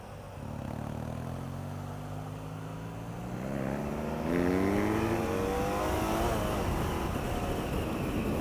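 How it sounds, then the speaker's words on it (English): BMW F800GS motorcycle engine idling and then revving with a buzzy tone, pitch rising and falling in clear harmonic sweeps, close and steady throughout with no talk. "And it's a very buzzy engine."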